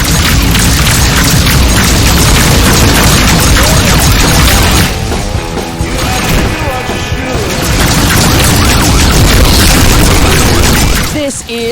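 A missile explosion in the space combat game Rebel Galaxy Outlaw: a loud, sustained booming blast and crash that eases briefly midway while a voice speaks, then swells again before cutting off.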